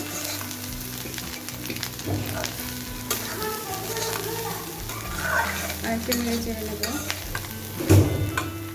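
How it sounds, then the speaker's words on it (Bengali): Bottle gourd peel frying in a pan with coriander leaves, sizzling continuously while a spatula stirs and scrapes, with occasional louder clinks against the pan. "সে পর্যন্ত নেড়ে নেব এ পর্যায়ে ঘন ঘন নেড়ে নিতে হবে"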